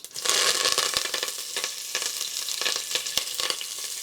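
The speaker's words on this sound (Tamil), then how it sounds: "இப்போ எண்ணெய் காஞ்சிருச்சு, கடுகு போட்டுக்கலாம்." Mustard seeds sputter in hot oil in a cooker, giving a steady loud sizzle broken by sharp pops and crackles throughout, with no voices.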